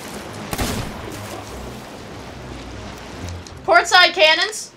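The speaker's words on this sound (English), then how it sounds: "Portside cannons." A burst of booming ship cannon fire in a game, fighting a megalodon, with rumbling gunfire trailing off, then someone talks briefly near the end.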